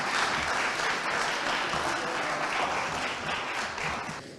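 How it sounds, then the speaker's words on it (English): At an evening sustainability awards event, the crowd gives a big round of applause for top-ranked buildings, a steady, full wash of clapping that holds evenly and tapers slightly at the end. "Can we please have a big round of applause for our top-ranked buildings?"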